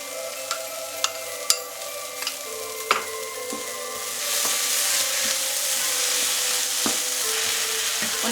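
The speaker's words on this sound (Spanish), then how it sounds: "Cuando veamos que la cebolla ya está un poco transparente, incorporamos la soja, sin hidratar." Onion and dry textured soy frying in a pan for stuffed peppers, with a few sharp clicks and stirs early on, then a steady close sizzle that grows louder and fuller after the soy goes in.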